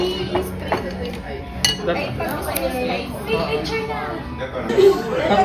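Mazesoba noodles at level 1 spiciness stirred in a bowl at a food stall in Osu Shopping District, with soft clinks of utensils against the dish under steady chatter and nearby voices.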